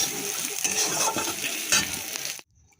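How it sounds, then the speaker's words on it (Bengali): Radhuni seeds, dried chilli and ginger hit hot oil in a pan with a loud, steady crackling sizzle close by, which stops abruptly near the end and leaves near silence. "এখানে ফোড়ন দিয়ে দিলাম রাঁধুনি, শুকনো লঙ্কা, একটু আদা ফোড়ন দিলাম"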